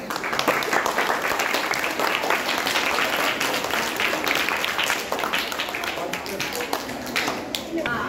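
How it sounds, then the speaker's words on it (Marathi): An audience claps at the close of a lecture on the meaning of the verses in a Vidyarambh pothi. The applause is dense and steady throughout, with voices mixed in. "आता टाळ्या नको आहेत"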